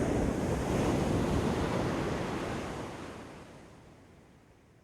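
Ocean surf rolls in as one broad, rushing wash of breaking water mixed with wind noise, loud at first and then slowly fading out.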